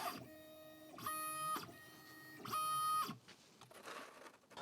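A laser engraver's head moves back and forth while framing a project, with whining, tonal motor runs in short bursts separated by brief pauses, followed by softer shuffling movement.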